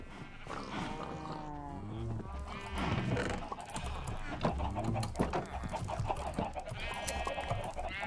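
Sheep in Minecraft bleat repeatedly in wavering calls, mixed with people talking and shouting excitedly over one another.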